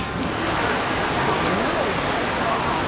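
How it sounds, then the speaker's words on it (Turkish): A sudden heavy downpour pours over Kuala Lumpur, a dense, steady hiss of rain that stays loud and unbroken from start to finish. "Sağanak yağıyor ama ne kadar yağıyor?"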